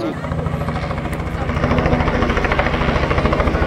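A helicopter flies near the Christ the Redeemer statue in Rio de Janeiro, its rotor thumping loud and rhythmic and growing stronger over a few seconds, with voices talking underneath.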